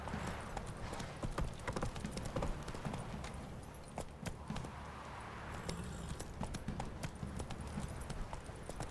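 Roach, Geralt's horse in The Witcher 3: Wild Hunt, trotting with rapid rhythmic hoof clip-clops that continue throughout, close and fairly loud over a faint ambient background.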